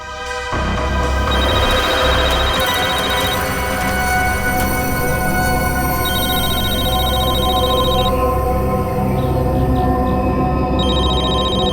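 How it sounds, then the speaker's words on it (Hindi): A phone ringing on an outgoing call in a crime drama scene, with a steady, looping electronic ring pattern repeating over a loud, dense music bed throughout, no talking. "सर, फोन रिंग हो रहा है।"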